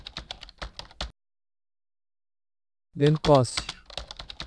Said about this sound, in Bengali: ফার্স্ট আমরা হেডিংগুলো এভাবে টাইপ